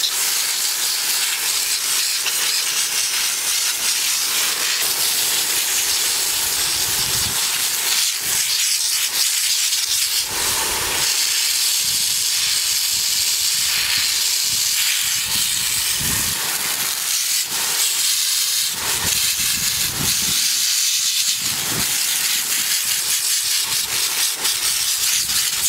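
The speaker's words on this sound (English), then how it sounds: "Just give the roots a light rinse, get the dirt off." Water from a hose or tap gushes over freshly dug curly dock roots as dirt is rinsed off outdoors, a steady loud hissing spray that runs continuously with uneven surges and no talking.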